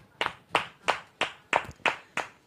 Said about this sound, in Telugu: ఒకసారి గట్టిగా చప్పట్లు కొట్టి దేవునికి స్తోత్రాలు చేద్దాం